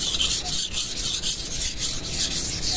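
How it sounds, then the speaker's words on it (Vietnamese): A knife is sharpened on a whetstone with rhythmic, loud, close scraping strokes, each rough rasp rising and falling in a regular back-and-forth pattern with no talk. "khi các bạn đặt con dao này các bạn mài rất tuyệt tình như này thì nó cạn như là đang bào dần ra con dao ấy"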